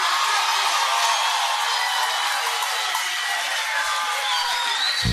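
Applause at an acoustic concert in 2005 forms a dense, continuous roar of clapping from a large audience, steady and loud throughout the short stretch.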